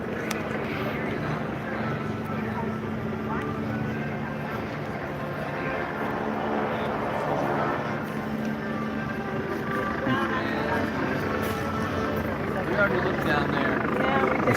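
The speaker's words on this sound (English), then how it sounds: "there's a helicopter. They've been circling around all day." A steady, rumbling engine drone of a helicopter circling overhead fills the clip continuously, with rough outdoor noise from a protest march in Charlottesville, Virginia mixed in.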